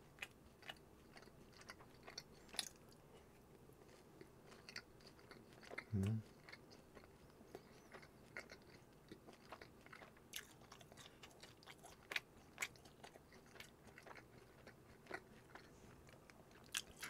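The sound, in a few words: eating and chewing fried dumplings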